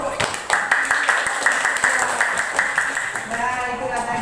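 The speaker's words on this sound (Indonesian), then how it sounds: "Beri tepuk." A classroom of sixth-grade pupils claps in applause after a group presentation, a dense patter of many hands close by, steady and fairly loud across the whole stretch.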